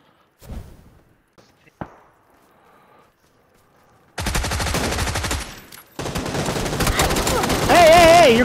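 Rapid automatic gunfire in a video game erupts after a few scattered thumps, firing in two long, loud bursts with a short gap between them, while voices shout over the shooting near the end.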